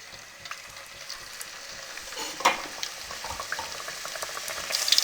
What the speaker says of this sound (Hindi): आप घी में भी इसे फ्राई कर सकते हैं और 40 सेकंड इसको हम फ्राई करेंगे।